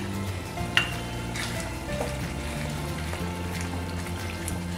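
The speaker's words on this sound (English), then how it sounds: "So I'm adding just half a cup of curd in this." Curd poured into a fresh raw turmeric curry in a pan sizzles and fries with a steady soft crackle and light stirring, fairly quiet and close.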